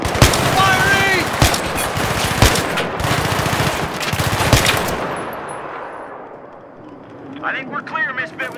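Heavy automatic gunfire in the video game Battlefield 3, rapid loud bursts of shots with booming echoes over a street scene, tapering into a distant rumble, with voices shouting over it.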